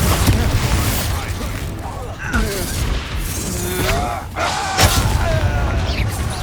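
Bombarda spell explosions in Hogwarts Legacy battle, heavy booms and crashes bursting in quick succession amid loud combat clatter, with shouted voices mixed in.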